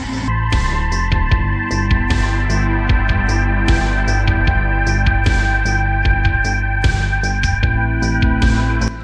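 A budget 3D printer printing classic car parts runs loudly and steadily, its motors holding a constant whine beneath a rapid, uneven stream of sharp ticks and clicks.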